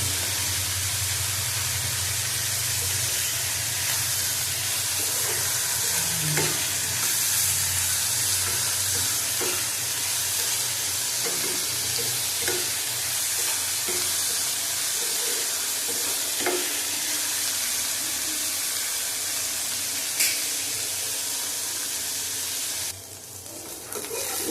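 Bottle gourd peel fries with salt and turmeric in a pan, a steady, loud sizzle and hiss that runs throughout, with faint stirring scrapes and clicks scattered over it.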